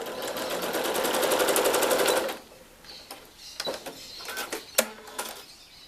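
A sewing machine runs steadily while stitching fabric scraps together, a dense rapid clatter for about two seconds. It then stops, leaving scattered handling clicks and small taps.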